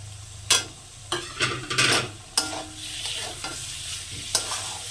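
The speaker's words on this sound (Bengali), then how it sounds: "চিকেনটা আমি সুন্দর করে কষে নেব" Minced chicken is stir-fried in spices with chui jhal for ghugni, sharp scraping stirs against the pan breaking through a steady sizzle, close and loud, with no talking.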